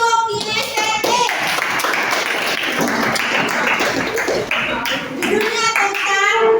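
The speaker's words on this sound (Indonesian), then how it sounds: "Silakan tepuk tangan untuk kinestetik." Students in a classroom clap their hands for a kinesthetic group performance, a lively burst of close clapping mixed with children's chatter and excited voices.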